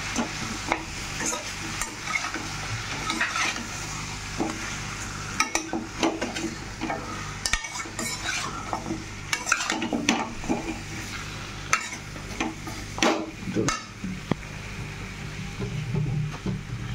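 Chicken meat is stirred in a pot with a spoon, irregular scraping and clattering strokes over a soft sizzle, close and moderately loud, with no one speaking.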